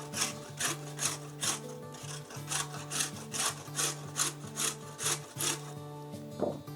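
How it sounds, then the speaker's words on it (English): Half a carrot shaved across a kitchen grater in steady rhythmic strokes, a quick rasping scrape repeating about twice per second, close and fairly quiet, with no talking. "So we're just gonna shave. Just make sure that your fingers don't come into contact with the grater."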